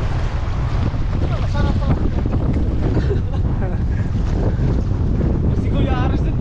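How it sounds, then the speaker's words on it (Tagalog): Strong wind and heavy waves buffet a small boat at sea, a constant loud roar of wind on the microphone and sloshing water throughout, with people talking over it. "Ang lakas ng alon no?"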